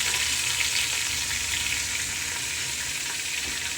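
Onion mixed with garlic frying in a pan, giving a continuous dense hiss of sizzling oil, close and even in level throughout with no talking.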